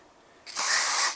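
Cleaner sprayed from an aerosol can into the mass air flow sensor of a 2004–2009 Toyota Prius: quiet at first, then one loud, close, continuous hiss lasting over half a second before it cuts off.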